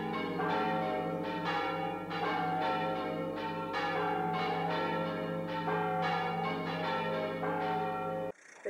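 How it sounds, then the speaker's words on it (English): A 15th-century church bell in a Spanish pueblo ringing in steady repeated strikes, each one fading into a thick, continuous metallic hum, loud and resonant throughout, cutting off abruptly at the end. "The oldest 15th century bell in the pueblo was made by a Jewish craftsman"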